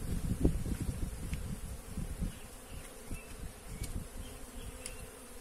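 A swarm of bees buzzes inside a hive box, a dense continuous drone close to the microphone with occasional louder wingbeat bursts and faint rustling.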